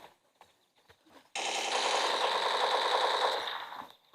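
Automatic gunfire in a shooting video game: a single loud sustained burst of rapid shots lasting about two and a half seconds, preceded by faint clicks and ending abruptly.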